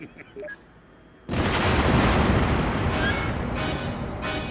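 A nuclear missile explodes in the Sam & Max video game: a sudden loud blast, then a sustained roaring rumble that fills the rest of the moment, after a quieter stretch with a few small electronic blips.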